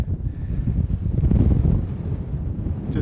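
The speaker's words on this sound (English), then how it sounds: "Just windy." Steady wind buffets a snowy Scottish mountainside in March, a loud, continuous low roar with gusts swelling and easing, no voices.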